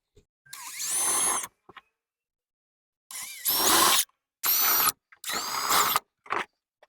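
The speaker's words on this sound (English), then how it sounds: "I'm just making a mark by drilling through the hole." Several bursts of a power drill boring through cedar wood at close range, rising and cutting off in short runs with brief pauses between them.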